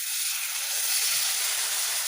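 Water poured into local chicken curry cooking in a pot, setting off a loud, steady hiss of steam and sizzle that fills the whole moment.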